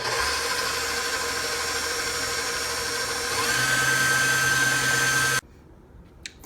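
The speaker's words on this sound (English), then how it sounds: "Crank up the bowl, and I'm going to whisk them together until they are foamy." A stand mixer whisks egg whites until foamy for a chocolate soufflé. Its motor gives a steady, loud whir that shifts pitch partway through, then cuts off abruptly near the end.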